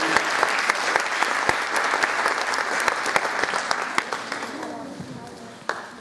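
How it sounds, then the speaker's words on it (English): Audience applause fills a school winter concert hall, a dense, steady wash of many hands clapping close by that tapers slightly toward the end. "please give them a round of applause and thank you very much for being here."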